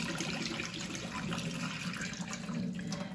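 Tap water runs steadily into a stock pot in a kitchen, a loud, continuous rushing splash with no voices over it.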